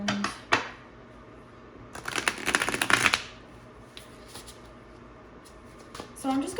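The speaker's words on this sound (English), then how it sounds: "So I'm just going to shuffle the cards a bit," A Force of Enchantment tarot deck being shuffled by hand, with soft papery riffles and one dense burst of card shuffling near the middle, close up, amid quiet room tone.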